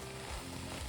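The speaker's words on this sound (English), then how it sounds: "This has been sauteing for about 15 minutes." Vegetables, including potato, sauteing in a soup pot for a vegan barley soup, giving a quiet, continuous soft sizzle with no voices.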